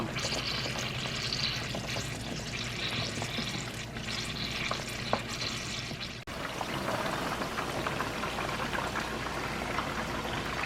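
Sausage deep frying in hot oil in a Lao home kitchen, a steady dense crackling sizzle that runs the whole time, close and fairly loud, with a brief dip partway through before the bubbling resumes.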